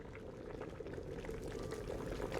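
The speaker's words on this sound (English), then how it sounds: "The traditional way is to chuck lobsters into boiling water." Water boils for cooking lobsters in the game The Wreck, a steady bubbling and churning simmer that stays close and even throughout, with no voices.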